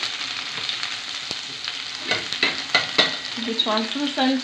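Onion for a homemade stovetop pizza sauce sizzles and fries steadily in a pan, with scraping stir strokes growing busier toward the end; no one speaks.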